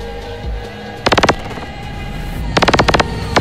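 Two quick bursts of rapid, rattling laser-like spaceship weapon shots, each a tight string of pulses, fired about a second and a half apart over a low hum.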